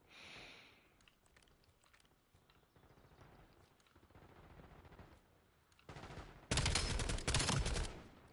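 Gunfire from a gun in Black Ops 7: quieter in-game clatter gives way to a loud, sustained automatic burst near the end, broken by a brief pause.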